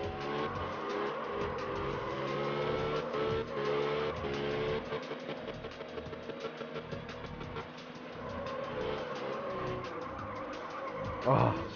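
Car drifting in the video game Absolute Drift on PS4, a continuous engine whine with sustained tire squeal rising and falling as it slides, loud and close, with brief talk over it.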